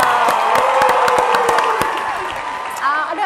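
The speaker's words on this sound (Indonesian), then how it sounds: "Sudah ada, berikan aplaus." Audience applause and cheering at an informal talk on studying at Universitas Terbuka, a steady wash of clapping and crowd noise lasting throughout with a few whoops near the end.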